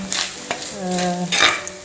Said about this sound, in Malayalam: ഇവിടെ ചട്ടിക്കകത്തിട്ട് തന്നെ തേങ്ങ മൂപ്പിക്കുന്നതായിട്ട്